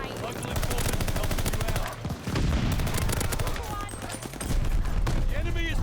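Sustained automatic fire against automatons in a shooter game, loud rapid rattling bursts with short gaps, mixed with explosions and combat effects, while a player talks over the shooting.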